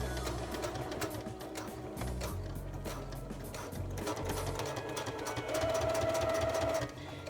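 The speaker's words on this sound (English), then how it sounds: "Now I'm just sewing on this vinyl by itself" A sewing machine runs steadily through vinyl sheeting with a strong needle, a continuous fast mechanical whir and needle chatter that holds throughout, with a brief higher-pitched hum near the end.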